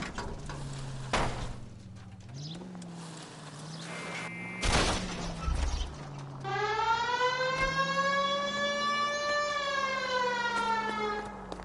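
Wailing police car siren in the LA Noire video game rises in over a low hum and grows loud, its pitch sweeping up and down in long cycles, with a brief sharp burst partway through.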